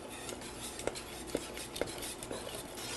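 A spoon stirs melting cheese in a pan, giving soft scraping and a few light clinks against the metal, with a steady background hiss and no talking.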